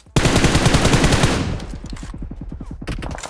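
Automatic gunfire in PUBG Mobile: a loud rapid burst of shots that trails into a quicker, fainter string of pops, close and alone without talk.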